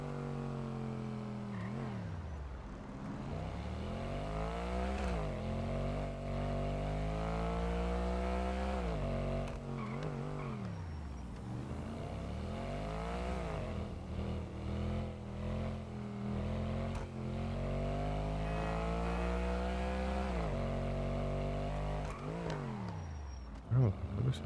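In GTA 5 a car drives along a sidewalk, its engine droning steadily and rising and falling in pitch as it revs and shifts, with a voice speaking over it throughout.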